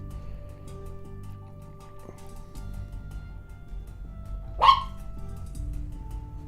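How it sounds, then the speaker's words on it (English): Dogs barking indoors: a single sharp bark or yip stands out near the end, preceded by faint scattered noises over a low background hum. "there goes the dogs again"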